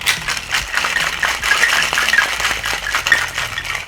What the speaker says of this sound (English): Okay, give it a shake for like 10-11 seconds.